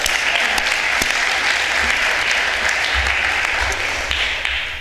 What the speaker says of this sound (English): How lucky, you can clap.